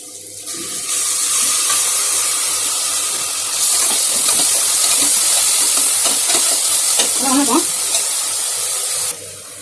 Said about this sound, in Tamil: இஞ்சி பூண்டு பேஸ்ட் எடுத்து வச்சுருக்கேன் இல்லைங்களா, அதையும் போட்டுக்கலாம்.